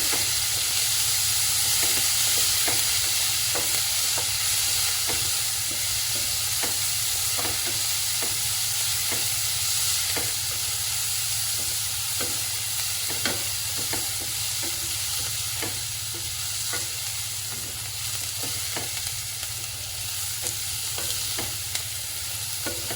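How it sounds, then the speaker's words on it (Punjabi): Onions frying in ghee in a pan while being stirred, a continuous loud sizzle and hiss with regular scraping spoon taps throughout, with no voices. "ਆਪਾਂ ਇਹਨਾਂ ਨੂੰ ਪਿਆਜ਼ਾਂ ਨੂੰ ਹਿਲਾਉਂਦੇ ਰਹਿਣਾ ਕਿਉਂਕਿ ਪਿਆਜ਼ ਆਪਣੇ ਥੱਲੇ ਨਾ ਲੱਗ ਜਾਣ"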